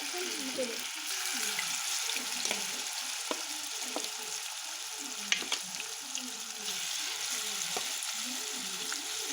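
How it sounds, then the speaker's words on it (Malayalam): Small pieces of tuna fry in hot oil for a Kerala fish pickle, a continuous close sizzle with bubbling crackle and intermittent scraping of a stirring spoon, no talk. "ഇപ്പോൾ ഈ എണ്ണയിൽ തന്നെയാണ് നമ്മൾ മീൻ മൂപ്പിക്കുന്നത് വറുത്തെടുക്കുന്നത്"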